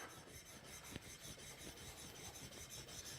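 Steel chisel back rubbed steadily against a sharpening stone to remove the burr, a quiet continuous rasping scrape with even back-and-forth strokes and no talk.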